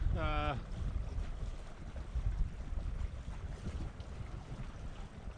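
Wind in Pender Harbor while a sailboat heads out, with a steady low rush of gusty air and water against the hull throughout, after a brief tonal sound at the start.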